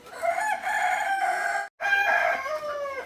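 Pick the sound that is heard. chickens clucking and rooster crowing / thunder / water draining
chickens clucking and rooster crowing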